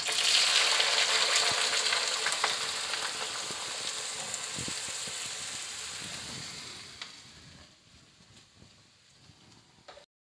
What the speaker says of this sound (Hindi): अब मैं इसमें डाल दूंगी ये आधा किलो बैंगन है